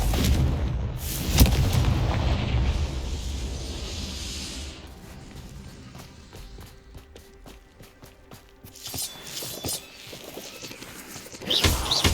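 A Confringo fire spell goes off in the game Hogwarts Legacy, with a loud burst and rumbling blast, then quieter clicking and crackling game effects before another booming hit near the end; no talking.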